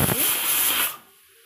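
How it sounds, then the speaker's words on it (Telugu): A pressure cooker whistle lets out a loud, close hiss of escaping steam while cooking sweet pongal, holding steady for about a second before cutting off sharply into quiet. "విజిల్ వచ్చి పైన ఎలా పొంగు వస్తుందా అంటే ఇంకా ఇందులో వాటర్ ఉందన్నమాట."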